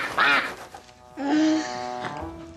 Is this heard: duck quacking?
yes